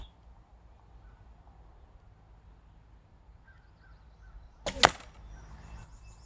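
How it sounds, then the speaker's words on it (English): A single sharp crack of an arrow from a Sanlida Royal X8 35lb longbow striking another arrow lodged in a target, loud and brief against quiet outdoor background. "Love the sound of hitting another arrow."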